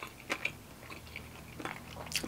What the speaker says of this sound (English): Can y'all hear that? There's crunchy pork pieces